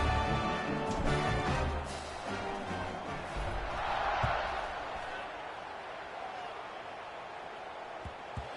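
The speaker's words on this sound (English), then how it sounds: "this crowd is buzzing after that last score" A football stadium crowd at a Tulane game buzzes right after a score ahead of the kickoff, a broad, loud roar that peaks early, swells again midway and then settles into a lower steady murmur.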